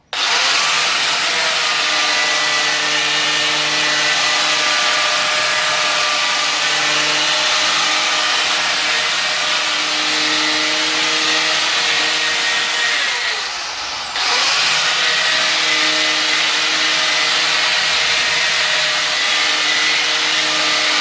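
A power sander polishing raw stainless steel grinds steadily and loudly for the whole stretch, with only a brief dip in the whirring near the middle.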